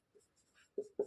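A pen scratches briefly across paper during a handwritten maths solution, a few soft short strokes close up and fairly faint, with no talking.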